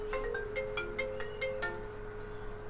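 A mobile phone rings with an incoming call, a repeating electronic ringtone of short bright tones over a steady hum, fairly close and without voices.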